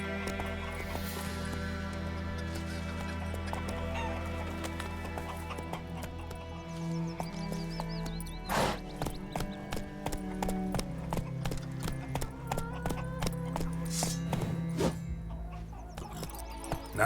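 The horse Roach trots with steady hoof clip-clops in The Witcher 3: Wild Hunt, the beats growing denser and louder in the second half over a sustained musical score.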